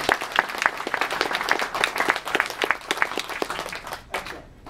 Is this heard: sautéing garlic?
no